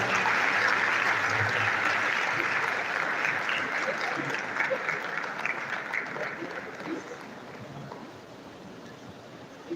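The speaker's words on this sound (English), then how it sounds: "let's give a resounding round of applause to Professor Abdu-Aguye" Applause from an academic audience honoring a professor at a Nigerian university lecture, a dense wash of clapping that gradually fades toward the end.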